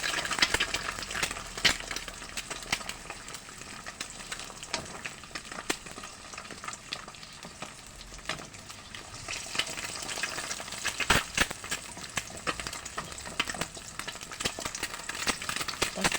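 Eggs frying in plenty of oil at a canteen-style stove, a steady crackling sizzle with scattered sharp pops and scraping stirs, fairly quiet and close.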